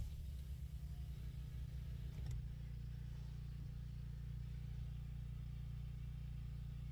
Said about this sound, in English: That's the gas generator.